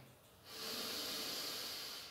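A long, deep breath during a heart-opening breathing exercise: a soft, airy hiss that swells after a brief pause and holds steady, close and fairly quiet, with no talking.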